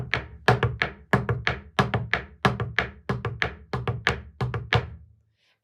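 Quebecois podorythmie foot tapping in a repeated triple-step pattern of right toe, left toe, whole right foot, giving about a dozen crisp, close thuds in an even rhythm with no voices, then silence.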